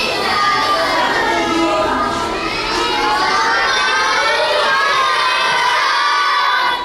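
Classroom of schoolchildren standing and shouting a greeting to the teacher together, a loud, dense crowd of young voices sustained for several seconds close by.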